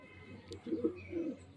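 Racing pigeons arriving home at their loft give soft, close cooing calls, a few low murmuring coos in quick succession against a quiet background.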